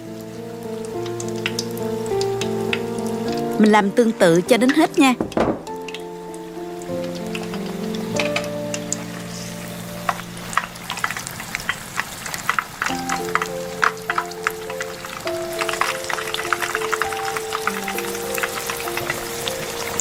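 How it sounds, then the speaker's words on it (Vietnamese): Battered shrimp dropped into a pan of medium-hot oil and frying, giving a steady crackling sizzle with sharp spatters, sitting under soft background music, with a brief spoken line from a nearby voice. "Mình cầm đuôi tôm và nhúng tôm qua áo đều bột và cho ngay vào chảo dầu nóng."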